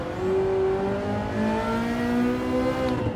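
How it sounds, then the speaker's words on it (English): Ferrari supercar in the Gran Turismo 7 racing game, tyres squealing in a sustained high whine over a steady, loud engine drone through a hard corner, continuous for about three seconds with no talk. "Tyres are squealing."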